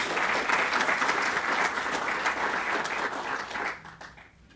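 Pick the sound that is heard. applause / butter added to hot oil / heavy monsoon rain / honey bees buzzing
applause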